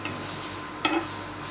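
Onions fry in a pan with only a little oil, giving a steady, close sizzle broken by a single scraping stir partway through, with no talking.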